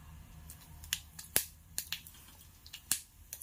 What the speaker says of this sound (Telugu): సాసవులు చిటపటలాడిన తర్వాత